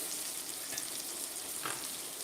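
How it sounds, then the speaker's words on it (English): Steady sizzling and crackling of shrimp frying in a hot pan, continuous and close, with a couple of brief louder spits. "the shrimp are going to go in there. Should hear a good sizzle."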